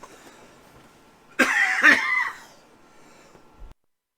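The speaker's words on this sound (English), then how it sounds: "Guy's coughing up a lung." A man coughs hard, a short loud burst of two or three harsh hacks that rises suddenly out of a quiet room and then trails off into near silence.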